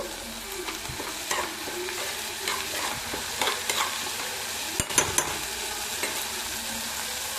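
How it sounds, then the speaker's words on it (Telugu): Green chilies and a full-size tomato fry on a high flame for a steady sizzle, broken up by intermittent stirring scrapes and knocks against the pan. "ఇది బాగా వేగాలి ఫ్రెండ్స్. నేను వేగటానికి కొంచెం హై ఫ్లేమ్లో పెట్టుకున్నా"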